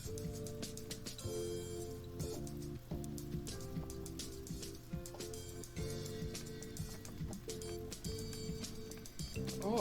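Rain falling in the video game Stonehearth, a steady pattering wash layered over game music with tonal notes, continuous and even throughout.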